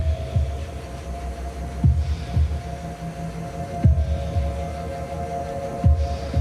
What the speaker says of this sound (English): the sound of the heartbeat within the music